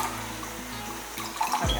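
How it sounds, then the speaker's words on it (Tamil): Water is poured into a pot for sambar rice, giving a brief, close splashing trickle over a low background hum, with no one talking. "நல்லா ஒன்றரை கப் அளவுக்கு தண்ணி ஊற்றிக்கலாம்"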